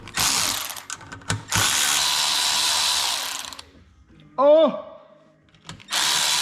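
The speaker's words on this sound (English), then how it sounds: "I know I got my cheating electric ratcheting wrench" Electric ratcheting wrench whirring in loud bursts while taking apart a dirt bike, two long runs with short spurts between, followed by a brief exclamation and a final burst.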